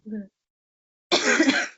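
A brief voiced sound, then silence, followed by a single harsh, breathy cough close to the microphone.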